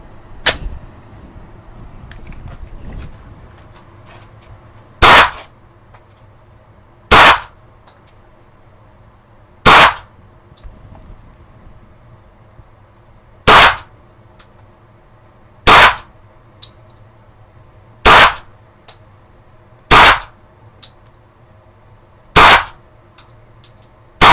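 Mauser C96 carbine fired repeatedly, about ten sharp loud cracks spaced a couple of seconds apart over a quiet background, ending on the last cartridge.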